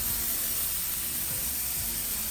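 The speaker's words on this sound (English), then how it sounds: "Now we're gonna put it in here so it can really fry" A steady, even sizzle of steak frying in a pan with a little butter, a continuous hiss close by with no talking.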